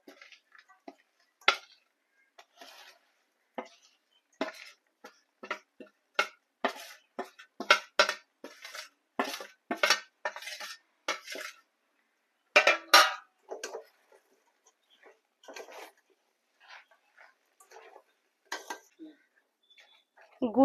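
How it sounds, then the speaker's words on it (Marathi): Grated mango and jaggery stirred in a pan over a low flame, a spoon clinking and scraping against the metal in quick irregular taps, clear and near with no voices. "गुळ आणि आंब्याचा किस छान असा मिक्स करून घ्यायचा"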